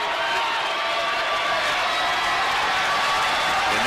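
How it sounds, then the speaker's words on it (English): A basketball crowd at a men's conference tournament championship game roars and cheers steadily as fans rise to their feet, a dense sustained wash of noise with applause mixed in. "And now this Langston crowd really coming to their feet"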